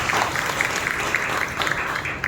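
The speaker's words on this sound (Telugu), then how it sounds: "చప్పట్లు కొట్టి ప్రభువును మహిమపరుస్తారు" A church congregation claps during a Sunday service, a steady, moderately loud wash of many hands that carries on without a break.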